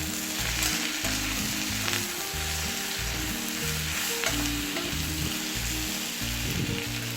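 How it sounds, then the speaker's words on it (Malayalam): Okra sizzles loudly in a pan of coconut oil, a constant close crackle with repeated low scraping strokes as it is stirred, and no one speaks. "അത് നിങ്ങൾ എണ്ണ ഒഴിച്ചിട്ട് ഇതിങ്ങനെ ഒന്ന് ഇളക്കി കൊടുക്കാം"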